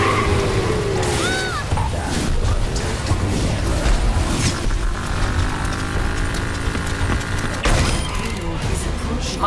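Explosions and weapon fire from the video game Overwatch, with several booms and bursts scattered through a busy, loud battle mix, with voices and game effects throughout.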